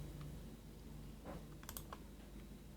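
A few faint computer keyboard keystrokes during a Ctrl+C copy shortcut, soft clicks clustered near the middle of an otherwise quiet stretch.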